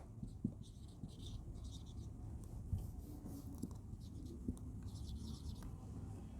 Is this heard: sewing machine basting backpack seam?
no